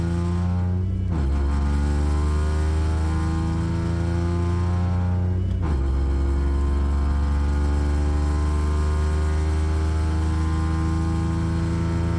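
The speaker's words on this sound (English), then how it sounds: "Let's see how this car performs on a full throttle acceleration test." A supercharged AMR500 car engine with a modified supercharger drive roars under full-throttle acceleration, loud and continuous, its pitch climbing and then dropping twice at gear changes before climbing again, with no voices.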